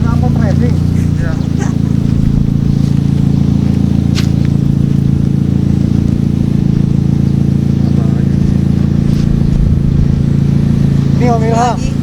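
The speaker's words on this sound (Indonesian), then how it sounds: "Suara mobilnya paten. Pakai knalpot racing." A car fitted with a racing exhaust, used on a years-long road trip around Indonesia, gives a steady low engine drone that runs close and continuous for the whole stretch, with people talking over it.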